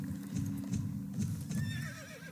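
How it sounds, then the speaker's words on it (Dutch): Horses neigh and whinny at a horse market, several shrill calls close by over a low murmur of crowd and hoof movement. "dit was de paardenmarkt"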